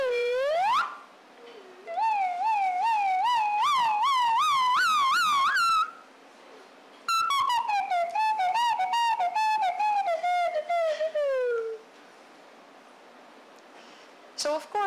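Whistled tones from a whistled-language experiment, offered as novel words for novel items: bursts of clear wavering whistles, some rising and falling in rapid undulations, others gliding in long swoops, separated by short pauses.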